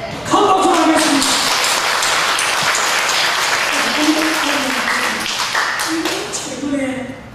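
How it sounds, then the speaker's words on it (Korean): Big round of applause from a church congregation at a Sunday service, steady dense clapping throughout with voices talking over it. "큰 박수 하겠습니다"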